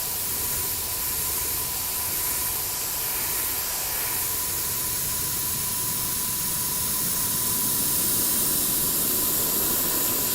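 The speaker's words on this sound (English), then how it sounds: "Something about airbrushing is so soothing to me too." An airbrush sprays black paint with a steady, soft hiss and a faint thin tone running underneath, continuous and close throughout, with no voices.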